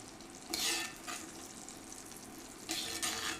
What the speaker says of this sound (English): I'm going to use my handy dandy spoon to keep basting it with the butter.